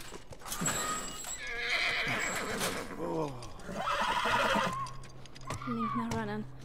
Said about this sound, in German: Warum reitet ihr eigentlich mit dem Pferd da rein? Mit dem Gaul.